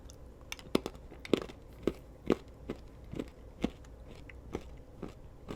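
Crunchy bites and chewing of a Feastables chocolate bar that looks like a crunch bar, sounding as sharp close crackling snaps spaced about every half second, with no talking.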